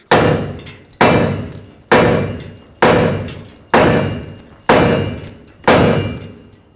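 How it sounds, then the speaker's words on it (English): A hammer strikes the steering knuckle of a 2004-2008 Ford F-150 during front lower ball joint replacement. Seven loud, evenly spaced metallic blows land about once a second, and each one rings out before the next. "Tap the knuckle right here."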